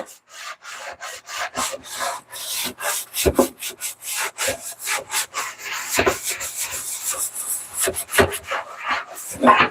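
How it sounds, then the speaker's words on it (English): Rhythmic scrubbing and rubbing strokes on a pan at a kitchen sink, a steady series of close, loud scraping bursts carrying on without pause. "So I'm just over here scrubbing this pan."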